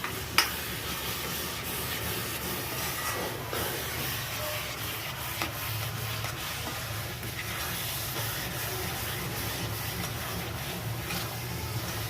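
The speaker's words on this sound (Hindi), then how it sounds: "अच्छे से मिक्स करना होता है।" Khoya being stirred into carrot halwa in a pan: a continuous dense rubbing, scraping hiss with steady texture and only a few small knocks, fairly close and without talk.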